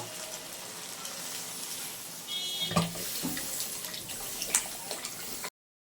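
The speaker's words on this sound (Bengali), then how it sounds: "এরপর আমি জল দিয়ে দেব" Water runs into a pan of fried spice mixture for a vegetarian chana dal bora curry. A soft hiss swells into a louder splashing pour partway through, with a few clinks, then cuts off abruptly.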